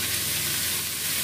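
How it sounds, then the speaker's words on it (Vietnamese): Green beans, carrots and chili stir-frying in a hot pan, a dense, steady sizzle filling the moment, close and loud with no voices. "Lúc này thì mình cho đậu cô bê này và cà rốt này, ớt này vào xào luôn nhé."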